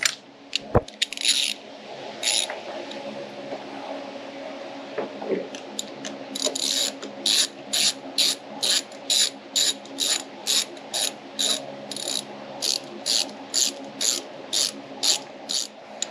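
A hand ratchet works on a Lexus RC F during a supercharger install: scattered clicks and clunks first, then a fast, regular run of close, sharp ratcheting clicks.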